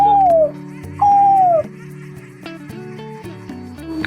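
A human voice imitates a koel or myna call with two clear descending whistled notes, close and loud, followed by softer chatter and layered background tones.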